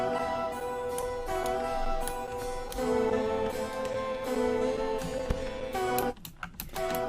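A sliced audio sample plays back through FL Studio's Fruity Slicer, a busy rhythmic loop of tonal hits and clicky transients that drops out into sparse choppy fragments at the end.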